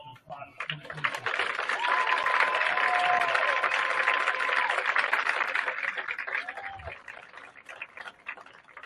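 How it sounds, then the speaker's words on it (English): A crowd applauds at a high school varsity lacrosse game honoring the senior class, clapping swelling to a sustained peak and then tapering off, with a voice over the speakers and some cheering mixed in. "Everybody give a big round of applause for the class of 2024."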